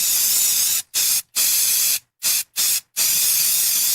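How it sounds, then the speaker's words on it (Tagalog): Baygon Shield Defense insecticide aerosol sprayed in a run of bursts: loud, close hissing blasts broken by short silent gaps, several quick puffs and a long final spray. "Humana ko i-spray direkta sa lamok, langaw ug ukok."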